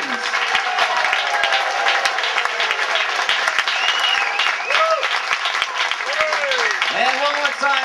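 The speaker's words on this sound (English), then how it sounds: "Ladies and gentlemen, please keep that applause going one more time." Steady, dense audience applause for a Capriccio Flamenco show aboard the cruise ship Grand Princess, a continuous close roar of clapping with a few voices calling out above it.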